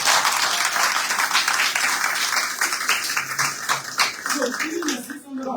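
An audience claps steadily at a seminar on importing from China and digital marketing, a dense patter of many hands, and a voice comes in as the clapping fades at the end.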